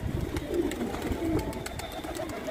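A Nilam Knaak pigeon cooing close by, soft low throaty coos repeating in a loose rhythm, with no talking.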